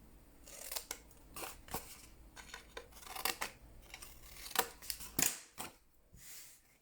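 Scissors snip through paper, trimming the tabs at both ends of a small accordion-style paper box; a quick series of sharp, close cuts in uneven rhythm, with no talking.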